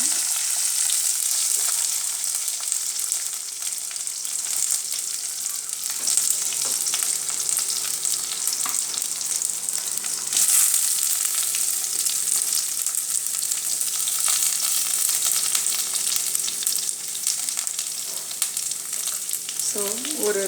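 Curry leaves and onion frying in hot oil for mutton curry gravy, a steady, close, continuous sizzle that holds for the whole stretch, with occasional stirring scrapes and no talking.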